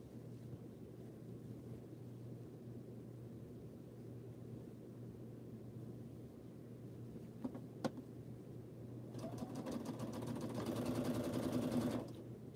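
A domestic sewing machine stitches a scrappy crumb quilt block, its steady low motor hum running throughout, with a couple of brief clicks and a faster, louder burst of stitching near the end.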